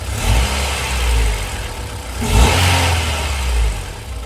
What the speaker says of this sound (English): with the idle valve plugged in, it comes up a little higher than what it should be